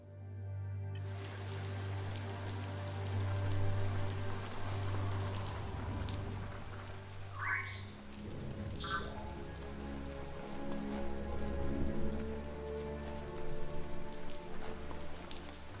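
Steady rain patters throughout in the video game Biomutant, a constant wash of falling drops over a low music-like drone, with a couple of brief brighter tones in the middle.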